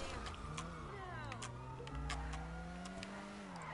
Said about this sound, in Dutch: Nou, ik hoor dit mooie autootje wel, hoor.